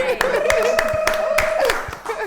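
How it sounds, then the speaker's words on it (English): Scattered hand claps ring out at an uneven pace while a person speaks over them, with some light laughter mixed in. "Let's just clap for that."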